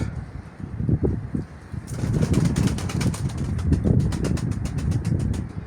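Pet pigeons are heard close by, with soft cooing at first and then a rapid run of wing claps and fluttering as they take off and fly, set against a steady outdoor background.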